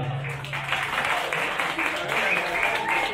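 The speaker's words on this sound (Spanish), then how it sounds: "un aplauso con el hombre." An audience at a musicians' day celebration with Los de Michoacán claps steadily, a dense crowd applause with faint voices mixed underneath.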